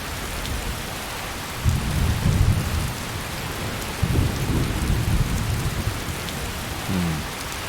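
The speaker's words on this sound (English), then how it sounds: "Apparently the rain can be everywhere." Rain in the fantasy game Skyrim hisses steadily, with deep thunder rumbling in two longer rolls and a short later crack. The storm is fairly loud, and no one speaks.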